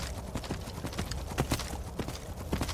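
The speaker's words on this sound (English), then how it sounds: "If you do it right, Arvak, not just Arvak, any horse can climb 90 degrees." Hooves of Arvak, the spectral horse in Skyrim, clip-clopping steadily while climbing, with quick close repeated footfalls over a dense game backdrop.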